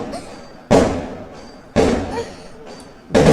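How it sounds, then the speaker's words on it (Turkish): Fireworks exploding outside, heard as three sharp, loud booms spaced about a second apart, each with a short ringing decay, over a steady background hum. "Arkadaşlar havai fişek patlatıyorlar silah mı? Havai fişek patlıyor."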